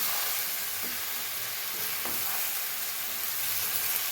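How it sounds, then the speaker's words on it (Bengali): Mutton and potatoes being stirred in a frying pan, a steady close sizzle with soft scraping strokes of the spoon, no voices. "এবার একটু নেড়ে চেড়ে দেবো।"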